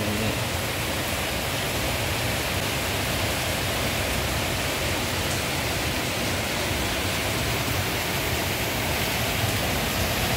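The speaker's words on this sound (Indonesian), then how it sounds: "Nah ini guys sudah mulai reda nih hujannya nih." Steady rain falling, an even, dense hiss that holds constant for the whole stretch, moderately loud and close with no voices.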